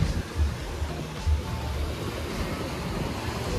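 Sea waves wash up on a beach in Goa, a steady broadband roar with a couple of low thumps of surf, mixed with wind buffeting the microphone; no one speaks.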